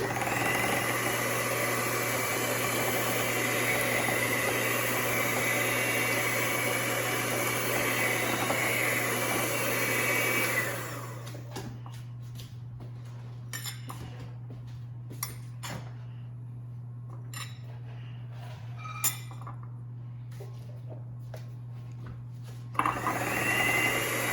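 All-purpose flour being mixed into banana bread batter: a loud, steady whirring drone for about ten seconds, then it stops and leaves scattered light clicks and taps against the bowl.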